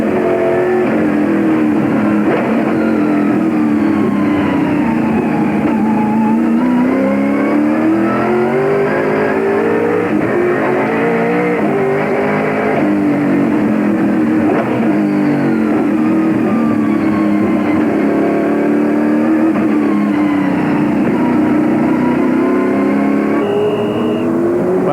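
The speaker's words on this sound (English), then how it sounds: "Just a fantastic sound from inside that big V8 Ford." Big V8 Ford touring race car at the 1997 Sandown 500, heard from inside the cockpit: a loud, continuous engine roar rising and falling steadily through shifts, with no talk.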